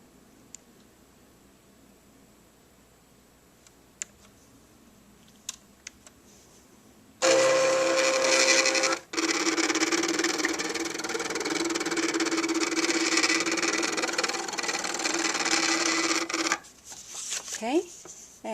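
A card cutting machine whirs steadily as it cuts a shape from card stock, close and fairly loud for about nine seconds after a quiet start with faint clicks, then stops with a few light handling noises.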